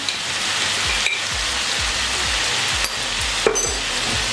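Spices sizzle steadily in a hot pan for chicken gravy, with turmeric, red chili powder and salt frying in a continuous dense hiss, broken by a regular series of soft spatula stirring strokes. No one speaks.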